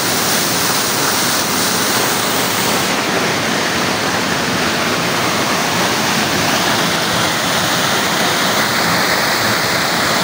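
Water rushing down Kawa-Kawa Falls in San Agustin, Romblon, a dense, unbroken hiss and roar heard up close and holding steady for the whole stretch.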